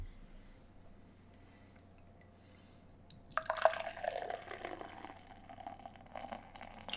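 Beer poured straight into a glass from a freshly opened container: near silence for about three seconds, then a steady, close splashing and fizzing fill that runs to the end.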